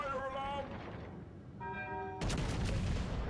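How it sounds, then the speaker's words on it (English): Naval guns fire in World of Warships Legends as a loud, sustained broadband barrage that bursts in near the end, after stretches of tonal game sounds. "Shots out at Megami again."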